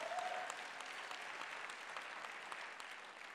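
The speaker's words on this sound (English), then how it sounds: "There should be a better clap this morning." Faint, even applause from a church congregation runs throughout, with a voice briefly heard at the start.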